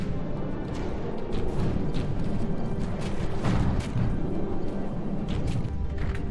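Cannon shells strike and bounce off a ship in the naval combat game From the Depths, a dense rumbling barrage of booms and crashes with sharp impacts scattered throughout, loud and continuous.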